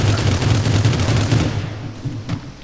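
Gunfire in the battle royale game Rules of Survival, a rapid, dense stream of shots that runs loud for about a second and a half, then thins into a few scattered, fainter reports.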